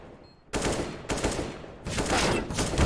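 Gunfire in CS:GO during a tournament final: heavy, dense bursts of shots arriving in several loud, close waves separated by brief gaps, with no talk.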